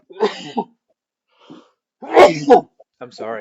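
A single sharp sneeze bursts out between short bits of nearby speech, loud and close.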